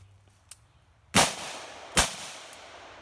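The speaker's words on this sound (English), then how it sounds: "So I'll just shoot a couple rounds real quick." Two sharp gunshots from an M4-style AR-15 rifle fired outdoors, loud and close, about a second apart, each with a short fading echo.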